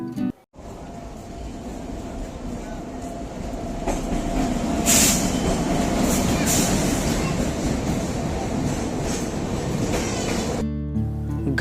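A Kamakhya-to-Delhi train stands at a railway platform behind a WAP-7 electric locomotive, a loud continuous rumble with a steady hum that swells after a few seconds, brief squeaks and clatter, then cuts off sharply near the end.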